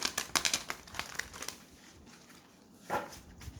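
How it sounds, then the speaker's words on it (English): Tarot cards being pulled from a deck, a quick run of close crinkly card shuffles and flicks in the first second and a half, then a quieter pause and one more soft slide near the end. "Let me pull out your other cards, the weeklies."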